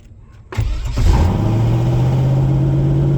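Land Rover truck engine cranking briefly, then catching and settling into a loud, steady, close idle that holds without fading.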